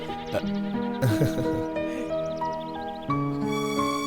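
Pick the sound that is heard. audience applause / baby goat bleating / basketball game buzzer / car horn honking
baby goat bleating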